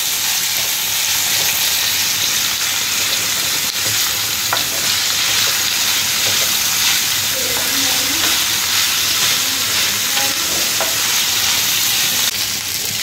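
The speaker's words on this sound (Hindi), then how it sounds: "आतां हांवें पियाव आनी सांग कातोल्या ती थंय फ्राय करता, मातशें भाजयता तेलां घालून" Onion and spices fry in oil in a pan, a close, continuous bright hiss and sizzle with occasional soft stirring scrapes, holding steady throughout with no voices.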